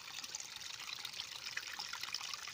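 Rainwater running off a farm field through a drainage channel after heavy rain, a steady close rushing trickle with no voices.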